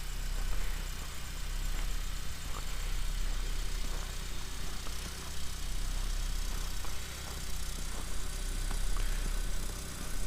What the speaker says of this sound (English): Warming up the car.